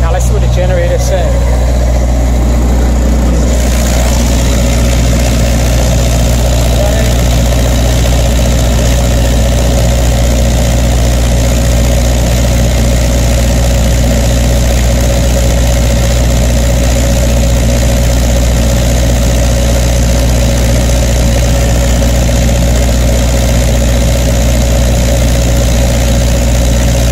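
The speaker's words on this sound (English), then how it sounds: "now let's see what the generator says." A generator engine runs steadily under a homemade resistor load bank, a loud continuous low hum and drone with mechanical vibration that holds unchanged throughout.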